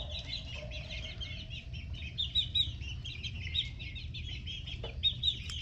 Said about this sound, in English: red jungle chickens. The one right here is a female. They're all getting bigger.